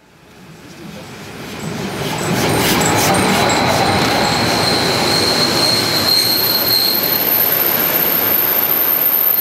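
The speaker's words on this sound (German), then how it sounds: "Nach rasanter Fahrt erreicht der Zug Rechtenstein, ebenfalls an der Donau gelegen." A train races into Rechtenstein on the Danube during a railway club's anniversary run, its roar swelling over two seconds into a loud, sustained rumble laced with high, piercing wheel squeal, with no voices.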